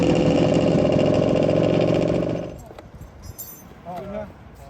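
A classic blue Vespa PX scooter engine that is acting up runs with a loud, steady, buzzy putter, then abruptly dies away to quiet background and a short faint squeal.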